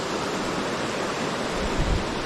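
An Upper Michigan waterfall on a trout stream rushes in a constant, full roar of falling water, close and unbroken.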